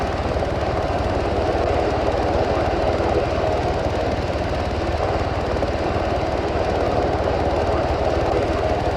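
Steady, loud helicopter rotor and engine roar drones on without a break during a military medical evacuation, filling the whole stretch with no voices.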